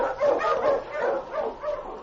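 Sled dog barking, the Wonder Dog King, an Eskimo lead dog, in an old-time radio drama; a run of several eager barks and yips in quick succession, close and lo-fi as in a vintage broadcast.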